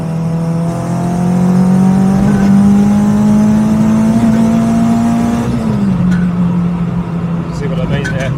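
A car engine hums loudly and steadily, its pitch slowly rising as it accelerates, then dropping as the revs ease off.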